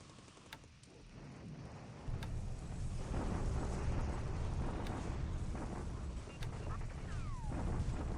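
Naval bombardment explosions in the War in the Pacific: Admiral Edition strategy game build into a dense, rumbling roar of blasts with scattered sharp cracks, following a quieter start.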